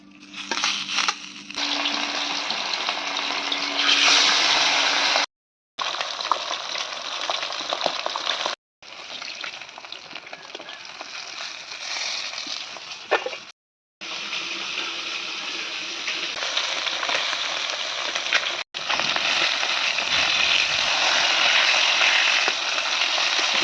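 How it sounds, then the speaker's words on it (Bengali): Fish sizzles and spatters steadily in a hot frying pan, a loud continuous crackling hiss broken by a few brief silent gaps. "হবে মাছ ভাজা।"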